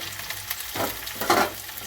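Bhetki fish trimmings and green chili frying in a pan, a soft steady sizzle with a couple of swells as the pieces are stirred, close and fairly quiet.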